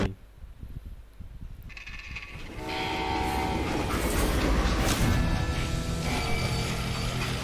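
A freight train in the Western game Call of Juarez Gunslinger rumbles and clatters, swelling louder after a few seconds, with sustained horn or whistle tones over the heavy rolling roar and a voice briefly under it.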